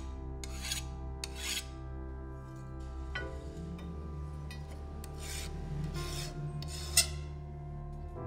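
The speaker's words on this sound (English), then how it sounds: "if you listen to the noise the file is making, you will hear that it somewhat skids on the blade" A metal file rasping across a hardened, quenched steel blade, producing steady scraping strokes that skid rather than bite, close and continuous with a brief sharp clink near the end.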